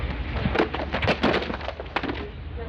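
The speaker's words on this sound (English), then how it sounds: "it certainly sounds like some books mysteriously tumble down from behind" Books tumbling down from shelves in a library, a faint, scattered series of soft thuds, cracks and rustles spread across a couple of seconds under a low background hiss.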